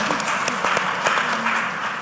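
Audience applause at a trade and economic transformation panel, a steady wash of clapping lasting about two seconds at moderate distance, with no voices over it.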